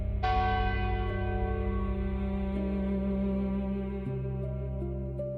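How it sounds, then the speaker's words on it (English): A church bell strikes once and rings on with a long, rich, slowly fading hum, joined by softer overlapping tones as it decays. "church bells marking the passing hours each Sunday"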